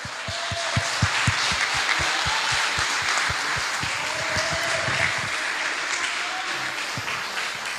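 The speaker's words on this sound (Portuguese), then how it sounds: "Você pode aplaudir ao Senhor em nome de Jesus." A church congregation at a Sunday morning service applauds steadily, the clapping dense and sustained throughout, with a few voices rising faintly under the applause.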